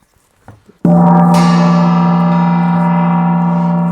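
After a few soft taps, a single gong strike rings out loud and sustained, its shimmering tone lingering and slowly decaying.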